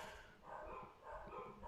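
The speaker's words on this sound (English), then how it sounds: "My dogs are fucking barking." Dogs bark at home after the doorbell rings, muffled and somewhat distant, several soft woofs in a loose rhythm over quiet room tone.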